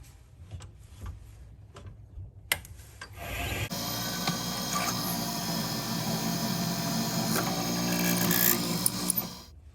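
A 7mm drill bit bores through an acrylic pen blank for a fountain pen, starting with a few faint scrapes before a steady, loud grinding whir sets in and continues close up to the end.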